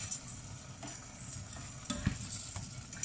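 Risotto rice is stirred in a sizzling pan at close range: a continuous soft frying hiss with light scraping strokes of the spoon and a faint knock.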